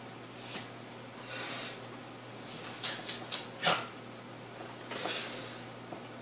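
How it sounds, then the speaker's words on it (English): A dog snorts a few times indoors, short breathy bursts close by, with soft shuffling and a low steady hum in the room. "My dog is snorting over here."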